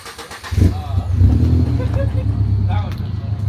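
Idling Subaru BRZ with an aftermarket exhaust rumbles close by, a low steady drone with a slight rise, while people talk over it.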